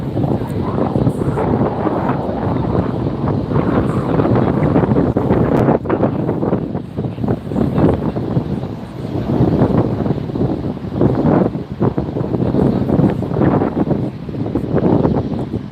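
A Delta Airbus A350-900, Flight 290 bound for Paris, taxis at LAX, producing a steady, loud broadband roar with wind buffeting the microphone throughout.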